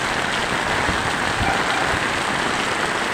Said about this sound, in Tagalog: Ayan po, napakalakas ng ulan.